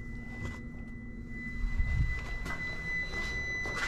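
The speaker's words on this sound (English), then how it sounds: "Meter's ringing out." A multimeter sounds a continuous, high, pure continuity tone while checking household outlet wiring. The tone holds steady and close throughout over a low hum, with light handling thumps near the middle.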